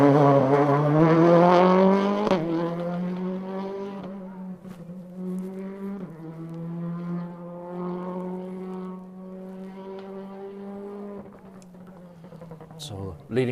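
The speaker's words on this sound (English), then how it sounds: "Very distinctive sounding Peugeot." A Peugeot 208 rally car on a stage of the West Cork Rally near Clonakilty, its engine droning loud and close with a strong buzzing tone, shifting pitch through gear changes as it holds a steady run past.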